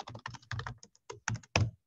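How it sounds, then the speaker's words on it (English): Quick bursts of keystrokes on a computer keyboard while writing in a group chat, clicking in short irregular clusters with brief pauses, close and clear with no talking. "I'm just typing something in the group chat for everybody"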